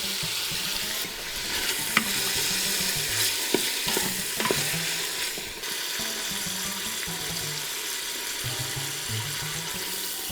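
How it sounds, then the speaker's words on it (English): Beef chuck searing in a hot pan for boeuf bourguignon, with a steady close sizzle and frying hiss broken by a few short clinks and scrapes of stirring, and no talking. "And we're gonna sear off the remainder of the meat."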